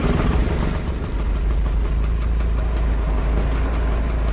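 A 1951 Hoffman car idles steadily right after starting, its engine a close, even, low rumble with a faint rhythmic ticking running through it.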